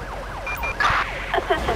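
A wailing ambulance siren in Grand Theft Auto V with the LSPDFR mod, sweeping up and down in a steady rising-falling cycle, loud and close, with a few sharper electronic tones layered on top.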